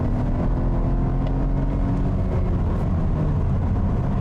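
A 2020 Volvo S90 T6 Inscription AWD, a large heavy sedan in comfort mode, speeds up through rush-hour traffic, giving a steady low engine and road rumble that fills the cabin with no voices.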